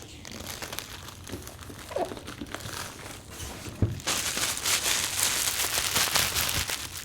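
Close, continuous crinkling and rustling of plastic wrap being handled while unboxing a 2018 MacBook Pro, growing louder and busier about halfway through, with no clear speech.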